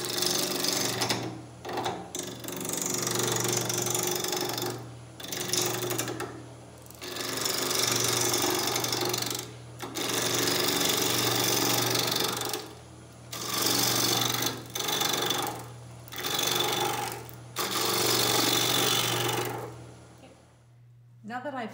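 Juniper wood bowl spinning on a wood lathe as the tool cuts, a loud, steady rasping roar with a low motor hum beneath, broken by several short pauses between passes; a voice speaks over parts of it.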